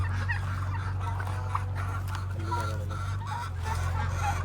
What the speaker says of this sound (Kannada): ಏನೋ ಟರ್ಕಿ ಇದು ಅಂತಂದು ಹೇಳಿದ್ರು ಓನರು